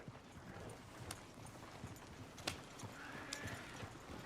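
Horses run and whinny in the Red Dead Redemption 2 video game: faint, scattered hoofbeats and a brief neigh within a steady, noisy outdoor ambience, with no clear voices.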